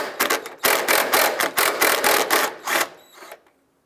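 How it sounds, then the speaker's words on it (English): A ratchet turns a 10mm socket with extensions to back a nut off an AC line bracket on a Ford Escape, giving quick bursts of close, dry clicking with brief pauses between the strokes. "We're going to use a 10mm socket and a couple extensions."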